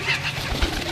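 Teddy pigeons coo softly and close by in a brief, breathy burst, with no voices present.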